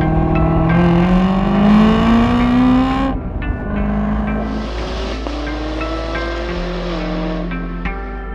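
A 2018 Chevrolet Camaro ZL1 convertible with a 650-horsepower engine, its deep exhaust note rising and falling through gear changes, loud and close with steady rumbling idle-like drone between revs, no voices.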